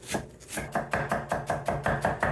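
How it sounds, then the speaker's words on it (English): Steady knife chopping through a carrot on a board, a series of crisp, evenly spaced strokes close by and fairly loud, with no talk. "So we're basically cutting the carrot as fine as we can cut it"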